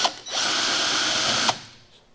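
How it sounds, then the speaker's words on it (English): A power drill runs steadily for about a second, backing out pre-loosened screws on a 2006 Dodge Ram 48RE automatic transmission during a rebuild, with a brief whine-up at the start and an abrupt stop, close and loud. "I have pre-loosened these screws because they're a little bit more than my drill will take off"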